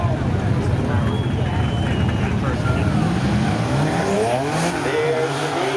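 Two drag cars, a 1999 Camaro and a Mazda, launch side by side at a spectator drag night on a speedway oval, a dense roar of engines under continuous announcer commentary, with rising revs toward the end.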